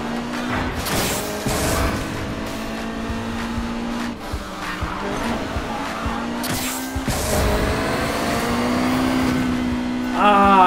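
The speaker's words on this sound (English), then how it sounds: "I'm using nitrous" A car in Need for Speed Payback accelerates hard on nitrous during a city sprint race, its engine roaring and climbing in pitch with tire squeal and game music over nearly eleven seconds, loud and close.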